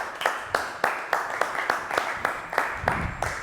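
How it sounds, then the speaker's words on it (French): Applause for a singer on a live French music show, heard as a small group clapping with distinct, regular claps spaced roughly every third of a second, close and fairly quiet. "On va l'applaudir"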